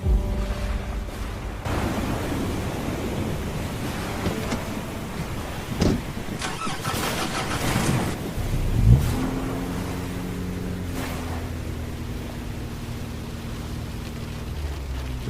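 A car engine cranks and starts partway through, then settles into a steady low idle, heard over a broad, wash-like background rumble with no talking.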